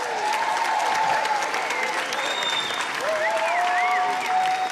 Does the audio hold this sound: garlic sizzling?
no